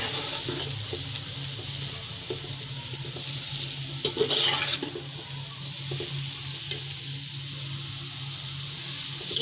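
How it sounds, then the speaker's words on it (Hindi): Sliced onions fry in ghee in a pot, a steady broadband sizzle throughout with a brief louder burst of hissing midway, close and continuous with no talking. "अब ये मैं प्याज इसमें फ्राई करने के लिए डाल दूँगी"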